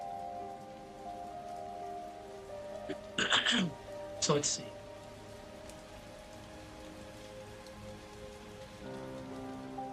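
Steady video game rain patters continuously throughout, with a voice speaking briefly twice in the middle over the downpour.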